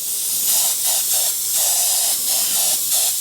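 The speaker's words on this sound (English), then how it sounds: "So obviously a lot easier to do heavier coating as well, especially with this round spray pattern." Iwata Vault HP.TH2 spray gun spraying paint in a round pattern, a loud steady airy hiss pulsing in short bursts as the trigger is worked, with no talk.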